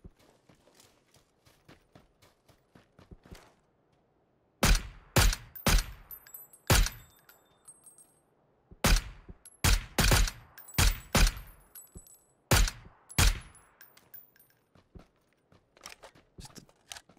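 A gun fires in the PUBG video game in sharp, loud cracks, some single and some in quick clusters, with short silences between the groups.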